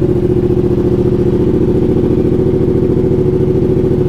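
A Yamaha R7 motorcycle with a CP2 engine and an iStunt exhaust with baffle fired up from cold, settling into a loud, steady, rhythmic idle that chugs on close by and alone for the whole stretch.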